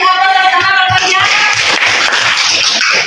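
Applause from a classroom group during a teacher coaching session, a dense wash of clapping that continues steadily throughout, mixed with some voices and harmonic tones at the start.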